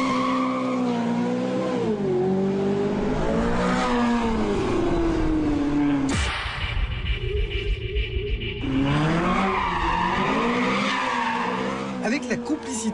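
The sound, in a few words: Ferrari California V8 GT car driving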